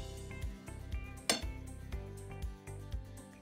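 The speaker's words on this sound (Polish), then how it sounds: "I teraz już mieszamy łopatką." Spatula stirring thick cheesecake batter with orange zest in a bowl, with repeated clinks and scrapes against the dish and one louder knock midway, close and clear.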